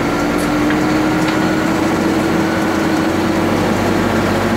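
A Massey Ferguson 6713 tractor engine holds a steady, loud drone after being revved to 1500 RPM, with a constant hum and no change in pitch or rhythm.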